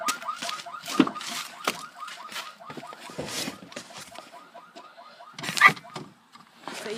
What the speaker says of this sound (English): The car alarm, it was with the speaker, which I have in my pocket